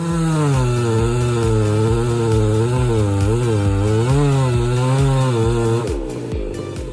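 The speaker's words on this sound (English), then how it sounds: "thanks to experience and the assistance of a chainsaw, the tree was successfully felled" A chainsaw felling a large tree with internal rot and a missing top drones loudly and steadily up close, its engine pitch wavering slightly as it cuts, then dropping off near the end.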